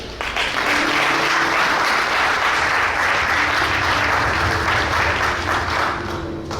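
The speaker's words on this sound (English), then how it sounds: "Let's give a round of applause to Selection." An audience at an outdoor fashion runway show applauds a designer's collection, a loud, sustained crowd of clapping hands that swells and then eases slightly toward the end.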